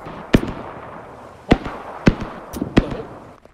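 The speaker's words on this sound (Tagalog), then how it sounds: "Daming fireworks." Fireworks burst in a tower-themed video game, four sharp, loud booms spread across a few seconds with crackling tails and a few softer pops between them, no speech.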